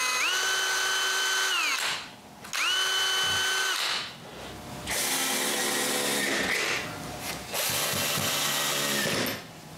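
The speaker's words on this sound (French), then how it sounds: "Je perce donc un trou au centre du bouton et j'ajoute une vis." A power drill bores a hole through the centre of a wooden button, a close, high whirring in three bursts as the motor spins up and bites, with brief pauses between.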